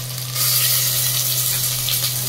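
Chopped onion and tomato paste hit hot tempered oil in a pan, a loud steady sizzle that bursts in after a brief quieter start and holds constant.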